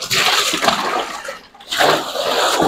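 Motor-pumped water gushes and splashes into a container of cattle feed, a strong continuous pour that briefly dips midway before surging again, close by.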